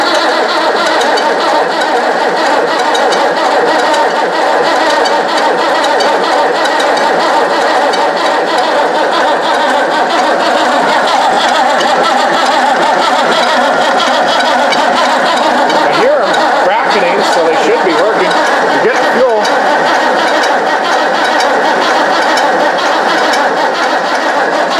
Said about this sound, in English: give it another turnover, and it should sputter and fire